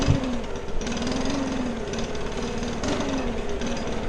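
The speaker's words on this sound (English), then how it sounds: "just a very light blow just to get the mulch off of the leaves and things" A leaf blower runs steadily at low throttle, blowing mulch off ground cover plants. Its engine drones evenly and close by, with no talking.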